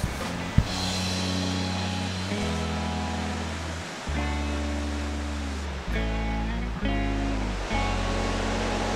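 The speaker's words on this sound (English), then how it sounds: "The land here is slowly retreating under the force of pounding waves." Ocean waves pound the rocky shore at Cape Flattery, the northwest corner of the United States. The surf makes a steady, loud roar with no breaks and is partly covered by sustained musical tones.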